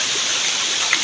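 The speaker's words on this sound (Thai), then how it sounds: "ฝนตก" Steady rain falls in a forest, a soft continuous hiss of drops on leaves and ground, even and unbroken, with no talk over it.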